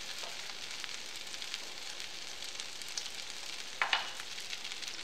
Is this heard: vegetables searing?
yes